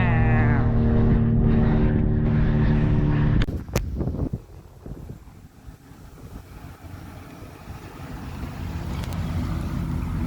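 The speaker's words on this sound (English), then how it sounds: "The plane!" An airplane flying overhead in Montreal, Quebec: a loud, steady droning hum that stops abruptly, giving way to softer rushing wind noise that slowly builds again.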